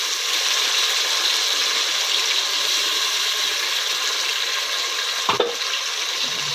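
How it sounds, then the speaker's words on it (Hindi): Tomato paste hitting a hot pan for an aloo anday curry, giving a steady, loud broadband sizzle and frying hiss with a brief clatter near the end and no talking. "और अब मैं इसमें ये टमाटरों की पेस्ट डाल दूँगी।"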